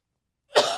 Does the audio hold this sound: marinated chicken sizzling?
no